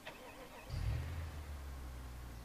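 A tow truck's engine in the BeamNG.Drive driving game cranks and fires up with a low rumble, then settles into a steady, fairly quiet idle.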